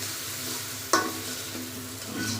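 Chicken pieces frying in a pan with onion and chili give off a steady sizzle, with one sharp clink of a utensil near the start and a soft stir later, alone and close by.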